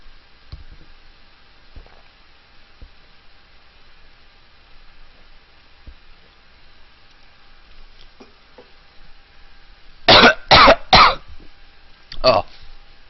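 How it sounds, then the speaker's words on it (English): A short burst of four harsh coughs near the end, three in quick succession and a fourth after a brief pause, loud and close after a long stretch of quiet with faint background ticks. "developing a bit of a cough here"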